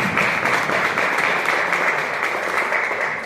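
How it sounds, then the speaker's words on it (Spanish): A loud, dense burst of applause from a large church congregation, steady and continuous throughout. "¿Cuántos le dan un aplauso al Señor?"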